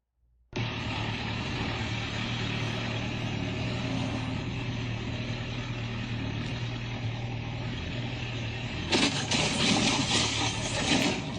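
Road traffic drones steadily, with a low engine hum carrying throughout and a brighter, louder burst of vehicle noise near the end, as motorcycles try to split lanes between cars.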